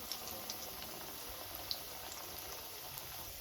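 Cut potatoes sizzling in hot oil with salt and turmeric for a thin fish curry, giving a steady, even crackle and hiss that runs without a break at moderate loudness, with no talking.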